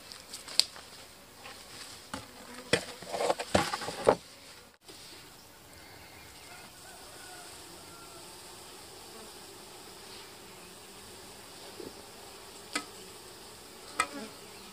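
Bees buzz around hives in an apiary after being given feed. A faint, steady hum runs under scattered close taps and knocks, mostly in the first few seconds.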